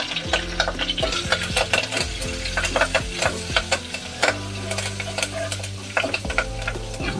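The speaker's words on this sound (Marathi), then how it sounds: "तेल आता तापलं आहे चांगलं, तर कढीपत्ता घालूया, ताबडतोब हिंग टाकूया त्याच्याबरोबर" Curry leaves and asafoetida crackle and sizzle in hot oil, with a spoon stirring and scraping the pan in quick irregular clicks; close and steady, alone without any voice.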